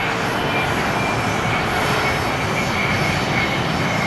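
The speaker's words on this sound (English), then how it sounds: "Private jet." A private jet passing near an airport runway, a steady broadband engine roar that holds loud and even throughout with no talk over it.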